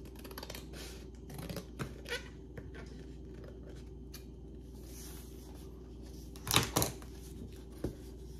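Quiet snips of scissors trimming junk journal paper pages for a Victorian-style journal, a few scattered cuts with a sharper pair near the end over low background hum.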